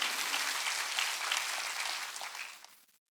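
A church congregation at a Sunday worship service claps together in a dense, even burst of applause that fades out and stops near the end.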